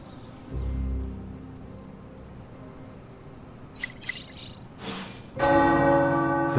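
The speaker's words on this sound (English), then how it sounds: "The tower bells are ringing." Tower church bells in Marvel's Midnight Suns game world toll, beginning with a deep low strike and building to bright, layered ringing that swells loudly near the end.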